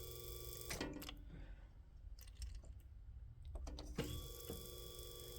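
An electric car fuel pump bench-tested with a hose attached hums steadily and mechanically, starting up about a second in and running continuously with a slight pause, at close range and alone.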